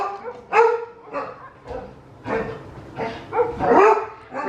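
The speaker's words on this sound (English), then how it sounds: "They just bark at the fence." Several dogs bark repeatedly at a fence outdoors, a run of sharp yapping barks and yips at moderate distance in uneven bursts, with no talking.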